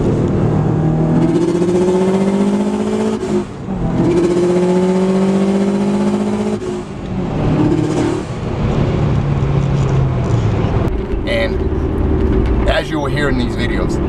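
A Subaru WRX STI turbocharged engine with a Tial 44mm wastegate and quiet exhaust revs up and falls repeatedly, close and loud, with a turbo whoosh and rising pitch as it climbs through the revs.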